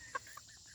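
A bantam hen gives a few brief, soft clucks close by in a quiet setting.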